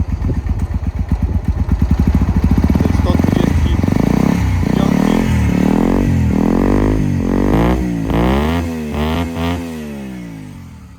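A Honda Varadero 125cc motorcycle with an aftermarket Dominator exhaust rumbles close by, revving up and down in loud throaty pulses before settling toward idle.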